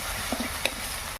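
Spices for a soybean curry fry in hot oil with a steady, close sizzle and a few faint clinks of stirring.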